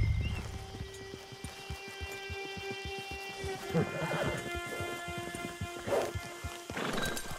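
Rhythmic hoofbeats of a horse clopping along in Red Dead Redemption 2 Online, steady and fairly close, with game music tones holding underneath and occasional rustling bursts.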